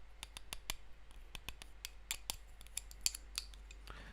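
Small hard objects clacked together by hand, a scattered series of sharp, crisp clicks and taps at an irregular pace, close and fairly quiet against a low background hum.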